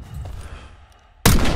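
A single loud gunshot in Call of Duty: Black Ops 6 cracks in suddenly after a quiet stretch of low ambient rumble, its broad blast and tail filling the final moments.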